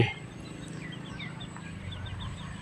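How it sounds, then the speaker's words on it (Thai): Chickens at a temple in Lampang, Thailand, giving soft scattered clucks and chirpy calls at a moderate distance over a low, steady background hum, with no talking. "ส่วนเจ้าไก่ทั้งหลายปลอดภัยกันดี"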